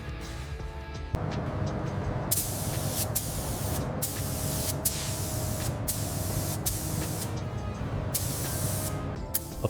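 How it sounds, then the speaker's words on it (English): A spray gun applies epoxy primer to a 1947 Harley-Davidson Knucklehead motorcycle frame, hissing in a steady close stream after a brief pause, with short breaks between passes. "Applying the first coat of epoxy primer. We want a nice, even wet look across the frame."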